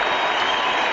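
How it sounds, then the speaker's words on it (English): Dense, steady applause from West Coast Eagles fans standing in the stands at an AFL football match as the Adelaide Crows leave the ground, a continuous broad wash of clapping with no gaps. "West Coast Eagles fans, who can be pretty harsh, Mix, as you know, have stood up as one, and when the Crows went down the race, they've all applauded"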